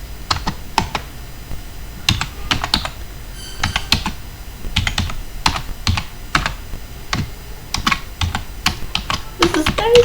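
Rapid, uneven keystrokes on a computer keyboard while code is typed, close and crisp, with short pauses between bursts and no talking.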